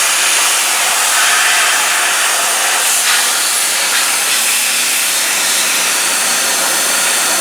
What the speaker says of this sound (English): And power washing them now